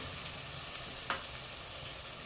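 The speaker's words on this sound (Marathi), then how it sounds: "आता टोमॅटोचं तेल सुटूपर्यंत आपण हे परतून घेऊया" Pureed tomato sautés in hot oil over high heat for methi matar malai, a steady close sizzle with one brief stirring scrape, no voices.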